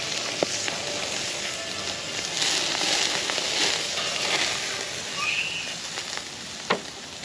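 Food sizzles and crackles steadily in a pan over a strong, hot flame at a family Canada Day cookout, a continuous close frying hiss with occasional pops and no talking.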